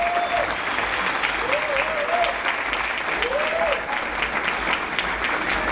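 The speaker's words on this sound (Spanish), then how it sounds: "Les quisiera pedir un aplauso para ellos" An audience at a talk on danzón music and the dancers of old Mexico breaks into loud, sustained applause, a dense steady wash of clapping with a few faint voices and whistles mixed in.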